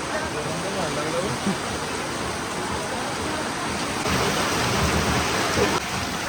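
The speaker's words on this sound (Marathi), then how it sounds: "खूप जास्त पाऊस आणि वारा पण आहे." Heavy rain and wind on a crowded hillside path make a dense, loud, continuous roar that grows stronger near the end.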